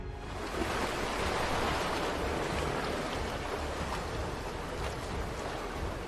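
Broad ocean wash and surf roll steadily around a sailing ship gliding across the Atlantic, a loud continuous rushing with no distinct breaks.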